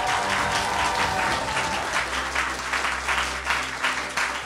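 An audience at a gala concert for a televised singing contest, D-1 Voice, applauds a prize winner: dense, sustained clapping from a large crowd that fills the hall without pause from start to finish.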